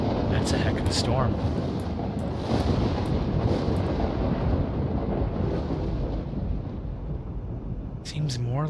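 A thunderstorm in the video game Voices of the Void: a constant loud rush of wind and rain with a few brief sharp bursts near the start and end, under what may be faint background sounds.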